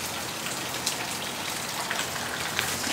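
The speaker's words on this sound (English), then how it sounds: "See, the rain is stopping." Steady rain falls with a soft continuous hiss and occasional nearby drops pattering on a surface.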